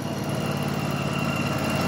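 A petrol lawn mower engine runs steadily on a garden lawn beside a chateau, its continuous buzzing drone close and even throughout with no pauses.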